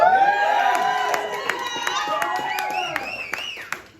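Audience at a 2025 year-end awards show cheers and claps, with scattered shouts and whoops over steady applause that gradually tapers off.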